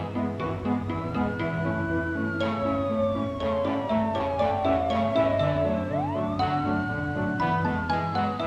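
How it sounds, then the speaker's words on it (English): A cartoon police car siren wails in long rising and falling sweeps over a busy layer of music, steady and fairly loud throughout. "Now a police car has joined the bad car chase."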